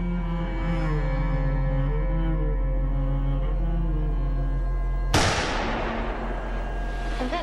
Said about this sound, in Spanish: Y ese, capitán Musmano, fue el disparo que terminó con Adolf Hitler.